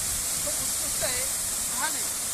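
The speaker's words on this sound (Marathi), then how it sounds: "हा धबधबा आहे" Waterfall beside the Samruddhi highway near Birwadi, a dense, unbroken roar of rushing water filling the whole clip, with a voice speaking faintly beneath it.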